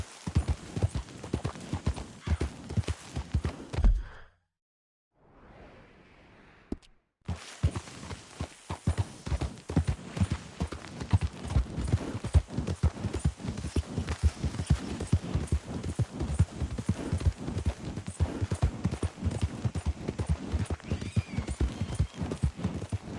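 Horse hooves clip-clop in Red Dead Redemption 2, a steady rhythmic run of close, loud hoofbeats broken by a short gap, with a brief faint whinny or snort.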